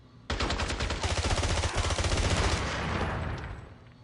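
AK rifle fire in the video game 007: Blood Stone, a sudden loud burst of rapid automatic shots rattling on for about two seconds, then fading into echoing decay with no talk.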